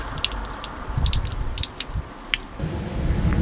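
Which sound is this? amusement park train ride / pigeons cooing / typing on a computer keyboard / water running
water running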